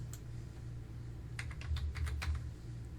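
Computer keyboard typing while entering a username at a login box: a short burst of quick keystrokes in the middle of the clip over a steady low hum, with no talking.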